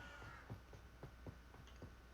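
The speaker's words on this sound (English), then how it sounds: "Lots of birds around. I don't know if those are owls or not." Birds calling in the Hogwarts Legacy game near the owlery, a series of repeated faint caw-like calls spaced roughly every quarter to half second over a quiet ambient background, with no speech.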